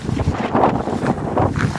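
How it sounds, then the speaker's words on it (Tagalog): Gusts of wind buffet the microphone in uneven, rushing bursts, loud and close, with no voices. "Mahangin talaga."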